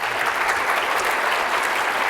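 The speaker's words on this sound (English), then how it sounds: "Let's have another round of applause for Will McAskill" A conference audience at an effective altruism event in Boston gives a speaker a round of applause, a brief, full burst of many hands clapping at constant volume.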